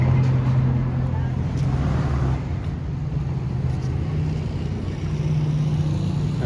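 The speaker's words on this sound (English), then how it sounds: "See, the traffic is moving good." Street traffic on Main Street in Chapala, heard from the sidewalk: a low, steady rumble of passing car engines and road noise, moderately near and continuous, with someone talking over it.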